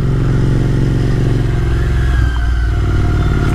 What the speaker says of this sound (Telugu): ఈ 2 బైక్స్ మీద వెళ్తున్నాం